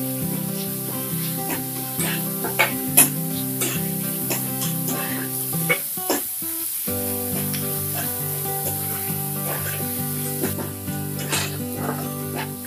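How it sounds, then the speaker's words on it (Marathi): Onion and chilli paste sizzles and sautés in a pan for a Maharashtrian pithala, a steady close frying hiss broken by repeated scraping stir strokes and occasional clinks. "आता याच्यामध्ये आपण जी पेस्ट बनवून घेतली होती ती टाकून घेणार आहोत आणि सर्व एकत्र करायचं आपल्याला। चांगलं मऊ कांदा मऊ होईपर्यंत आपल्याला परतून घ्यायचं।"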